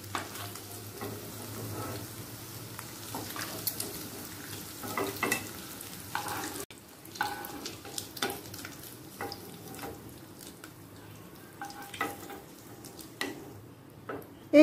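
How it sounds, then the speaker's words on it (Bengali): Paneer pieces fry in hot oil in a pan until lightly browned on both sides, giving a steady low sizzle broken by scattered ticks and scraping stirs, with no talking. "দু পিঠি হালকা লাল করে ভাজা হয়ে গেছে।"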